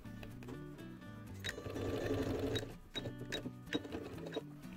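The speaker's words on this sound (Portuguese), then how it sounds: "Meio centímetro antes de chegar aqui no final, eu vou parar a costura com reforço" Sewing machine stitching a seam with backstitch reinforcement, a steady mechanical whir and needle chatter that speeds up briefly, then short stop-start bursts as the stitch reverses, fairly quiet and close.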